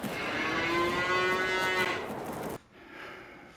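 A cow in Farming Simulator 22 gives one long, loud, drawn-out moo that fills most of the moment, then drops away to quieter background sound.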